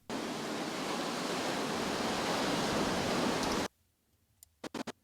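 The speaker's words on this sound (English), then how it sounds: "Now I have a single ocean audio track to go under 3 video shots." Ocean waves sound effect track, a loud, dense, continuous wash of surf that cuts off abruptly, followed by near silence and a few sharp clicks.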